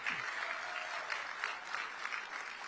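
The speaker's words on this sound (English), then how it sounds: "I want you guys to give yourselves a round of applause." Sustained audience applause fills a crowded political activist gathering, a steady dense wash of many hands clapping at moderate distance, holding evenly throughout with no voices rising above it.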